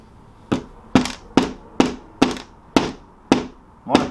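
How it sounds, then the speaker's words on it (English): Hammer blows on a Lowe's kids' wooden airplane kit, eight sharp, evenly spaced knocks about half a second apart, close and clear with quiet between strikes. "Let's see that hammer skills."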